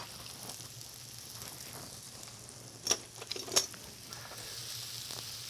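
Food stirred in a pan of melting butter on an induction cooktop, a soft steady sizzle with a couple of brief scraping clinks of the utensil partway through.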